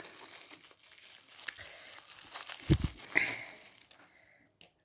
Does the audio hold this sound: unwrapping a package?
yes